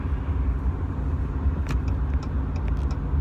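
A truck rolls along a dry highway on a sunny travel day, giving a steady loud engine and road rumble throughout with no talk.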